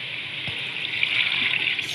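Water, 1.5 litres, poured into a pot of browned chicken for vegetable soup, a steady continuous splashing gush running for the full two seconds at moderate loudness with no talking.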